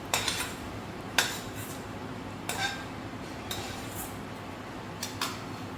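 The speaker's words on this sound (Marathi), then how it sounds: "धने, जिरे, लवंग, मिरे हे सर्व आपण गॅस बंद केलेला आहे आणि आता तेवढं गरम कढईमध्येच आपल्याला ते भाजून घ्यायचं आहे." Whole coriander seeds, cumin, cloves and black peppercorns dry-roasting in a hot wok with the gas turned off, heard as scattered metallic clinks and scrapes of a spoon against the pan over a quiet background hiss.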